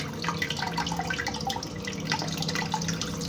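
Water poured onto a waterproof sticker, splashing and trickling steadily close by, a continuous patter with small drips throughout.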